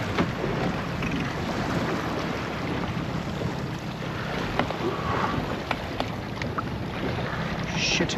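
Boat outboard motor running offshore near the Mackerel Islands at Onslow, a steady broadband drone mixed with wind buffeting the microphone and water wash, continuous and fairly loud, with no talk.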